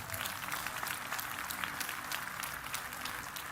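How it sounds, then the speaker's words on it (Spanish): Audience applause fills a church during a Spanish-language sermon, a steady wash of clapping hands that holds at an even, fairly loud level throughout with no break. "Aplausos a Jesús."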